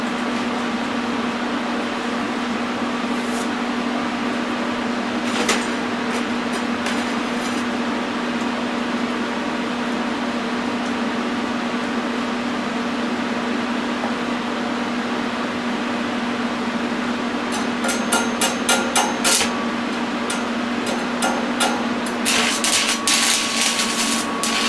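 A Lincoln TIG 200 Squarewave welder lays tack welds, giving off a steady electrical hum throughout with short bursts of crackling arc noise clustered toward the end, close and fairly loud.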